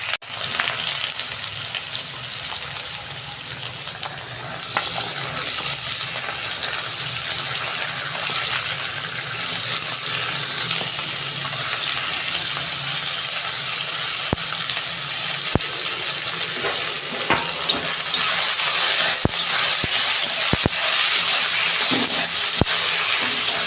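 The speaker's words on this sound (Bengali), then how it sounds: "সবজিগুলো সব একসঙ্গে ভেজে নেব।" Mixed vegetables fry in hot oil for semolina upma, giving a loud, steady sizzle that runs unbroken throughout, with occasional sharp clicks from stirring in the pan.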